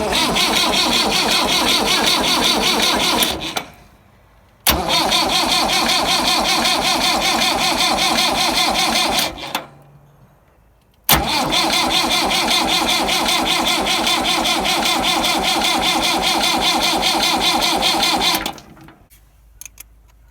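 Massey Ferguson 175 tractor engine cranking over and over without catching, three long loud rhythmic bursts separated by pauses, close and continuous, with no speech.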